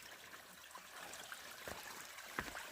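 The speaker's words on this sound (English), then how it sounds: "Nice little stream." A small stream trickles quietly, soft and faint, with a few brief splashy gurgles standing out near the end.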